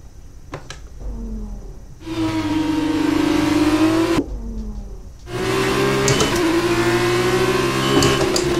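Formula 1 race car engines in the F1 2019 video game, a loud sustained high-pitched whine that rises with acceleration, cuts out briefly, then revs up again, heard without speech.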